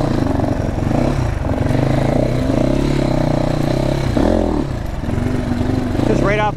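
A GPX FSE300r motorcycle engine close by, running and revving with rising and falling pitch through short bursts, loud and continuous, ending in a quick upward rev.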